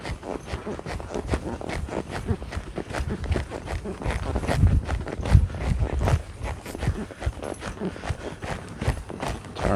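A trotting horse is worked in a training session, its hooves striking the ground in a steady, brisk rhythm that continues throughout, moderately close with some background noise.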